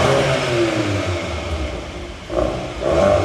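Volkswagen Golf R Black Edition with its 2.0T engine revving hard on a launch, a loud close rumble that dips briefly then surges again near the end, with no talk.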